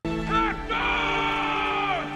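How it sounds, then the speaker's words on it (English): A man screams in a battle scene from the 2004 film Troy, a loud, sustained raw yell lasting about two seconds with a brief break, over a rough background. "He's still screaming."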